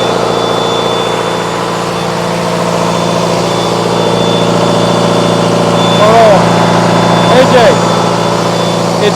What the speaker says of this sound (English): You can hear the motor of the truck is much quieter than the generator.